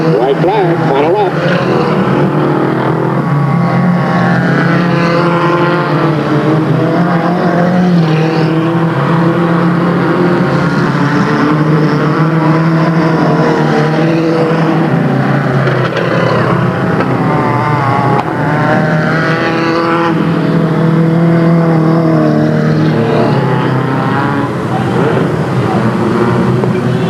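Race cars running the final lap at Delta Speedway in 1996 produce a dense, loud, sustained roar of many engines, whining tones rising and falling as they circle, with no break.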